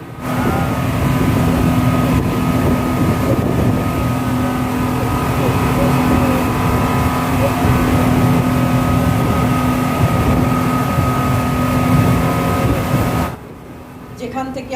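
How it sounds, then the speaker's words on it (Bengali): A speedboat motor drones loudly and steadily with a constant hum, then cuts off abruptly near the end, leaving quieter background. "স্পিডবোট আমাদের নিয়ে রওনা দিল দু নম্বর জেটির অভিমুখে"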